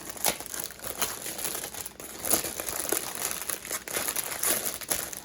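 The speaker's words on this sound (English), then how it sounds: "Stick your fingers in your ears if you don't like the crinkle" Diamond Art Club kit packaging crinkles and crackles continuously at close range, with bursts of sharp plastic rustling throughout and no talking.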